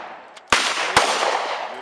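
Two sharp gunshots from a SIG Sauer MPX 9mm carbine pistol crack nearby, about half a second apart, each followed by a lingering outdoor wash of noise.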